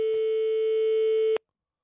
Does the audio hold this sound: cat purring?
no